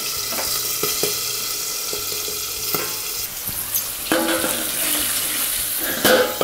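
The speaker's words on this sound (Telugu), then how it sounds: "బఠానీ గింజలు పేలుతాయి కాబట్టి కాస్త మూత వేసి ఒక 2 మినిట్స్ ఉంచుకోవాలి" Green peas fry in hot oil for a brinjal and pea curry, a dense continuous sizzle dotted with sharp pops and occasional clinks of a pan, close and fairly loud with no talking.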